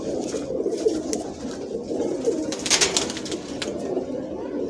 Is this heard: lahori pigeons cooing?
yes